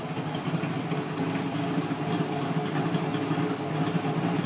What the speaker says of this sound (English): PACESETTER exhaust, which you can hear right there.